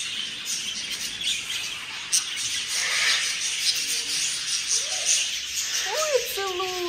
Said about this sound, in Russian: Какие красивые птички.